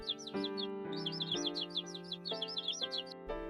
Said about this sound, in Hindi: पक्षी उनके पास बैठकर चहचहाते थे।